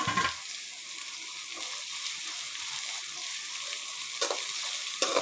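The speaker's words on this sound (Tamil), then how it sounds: "கூடவே தக்காளியை போட்டு தக்காளியும் வதக்கி எடுத்துக்கலாம்." Chopped tomatoes sautéing in a pan for an eggplant chicken curry give a loud, steady sizzle up close, broken by a couple of brief stirring scrapes.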